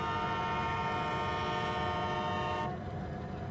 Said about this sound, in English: we're inside the cab of the locomotive.